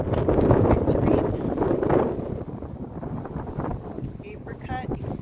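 Wind gusting through a backyard garden of young dwarf peach, nectarine and apricot fruit trees, a steady broadband rush that is strongest at first and then eases, with a few light knocks and rattles near the end.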